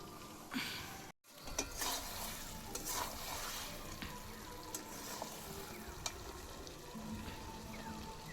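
Potatoes sizzle and fry with spices in a pan over a wood-fired clay stove, a steady crackling hiss with scraping stirs throughout and a brief dropout near the start.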